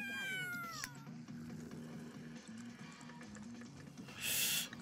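A cat meowing in The Sims 3, a clear drawn-out meow at the start followed by steady game background sounds and a brief brighter burst near the end.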